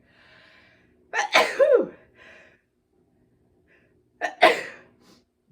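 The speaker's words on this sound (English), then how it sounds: "oh, I'm going to sneeze. Hold on to your hats, they can be loud sometimes." Two loud human sneezes a few seconds apart, each a sharp sudden burst after a quick intake of breath, close to the microphone in an otherwise quiet room.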